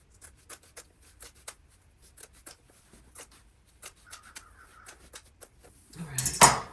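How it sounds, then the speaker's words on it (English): Scissors snip through thick denim along the outside of a skirt's seam allowance, a string of short, faint crisp cuts spaced irregularly, ending in a louder burst of handling noise. "I'm just cutting on the outside of this seam allowance."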